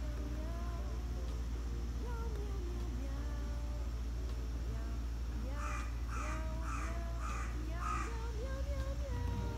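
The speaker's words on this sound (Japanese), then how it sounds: "飛んでったカラスたち。" Several crows caw in a quick series of harsh calls, somewhat distant, flying off overhead, over a low steady hum.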